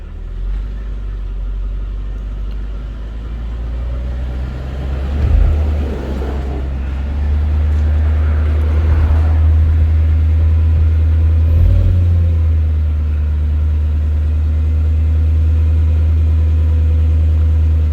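A 2005 Mercedes AMG E55 with a slipping automatic transmission idles steadily in drive, its engine rising into a louder, sustained rev midway and holding a heavy low drone throughout, with no talking.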